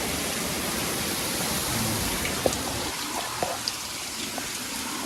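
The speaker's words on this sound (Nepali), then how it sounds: "गाईघाट झरना है।" Falling water rushes steadily from the Gaighat waterfall at Galkot, with a few small splashes and taps standing out now and then.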